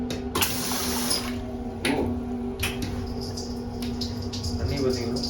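Water running from a tap inside Braunschweig Palace, a steady broadband rush that continues for the whole stretch while people talk over it.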